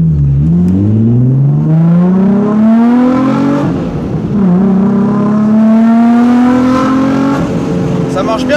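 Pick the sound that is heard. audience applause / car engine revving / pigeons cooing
car engine revving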